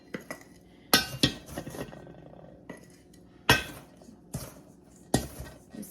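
Homemade hot cocoa mix being spooned into a container, heard as a series of sharp clinks and scrapes of a spoon against the container, several distinct knocks spaced a second or so apart with quiet gaps between.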